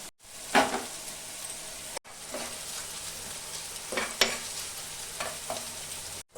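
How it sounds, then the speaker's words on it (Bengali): Whole spices (bay leaf, cumin, fennel, coriander and black pepper) dry-roasting in a pan while being stirred, giving a light steady sizzle broken by scraping strokes, close up with no talking. "একসাথে আমি সব ভেজে নেব।"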